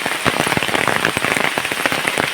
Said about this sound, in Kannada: ಇಲ್ಲಿ ತಲುಪುವಾಗ ಜೋರು ಮಳೆ